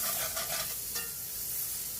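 Butter melts and sizzles in a pan while being stirred, a close, continuous crackling hiss with a few soft scraping strokes near the start.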